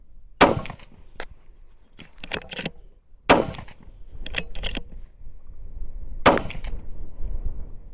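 Rifle gunshots from a Ruger American Gen 2 or Weatherby Vanguard with a hot barrel, fired at paper targets on a range: three sharp, loud cracks spaced about three seconds apart, with small clicks and handling noises in between.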